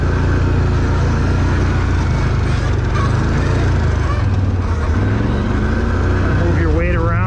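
Can-Am ATV engine labouring up a dry spring bed trail during technical riding, a steady close rumble with rising and falling revs, over constant rough-ground noise and wind.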